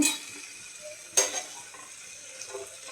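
A spoon stirs paneer curry with sour yogurt, salt and a little sugar in a pan, giving quiet scraping and a soft sizzle with one sharper clink of metal against the pan.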